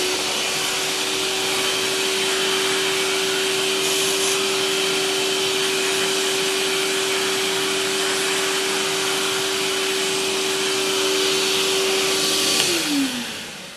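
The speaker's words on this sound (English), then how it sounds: "seems like we need to vacuum clean this" A vacuum cleaner runs continuously while cleaning a metalworking machine, a loud steady whine that drops in pitch as it switches off near the end.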